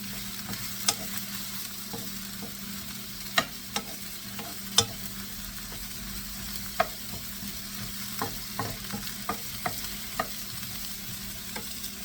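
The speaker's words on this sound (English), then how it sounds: "We're going to saute these." Pork, peas and mushrooms sauté in a casserole for an Asian-style dish, giving a steady close sizzle broken by irregular sharp clicks and scrapes of stirring, with no talking.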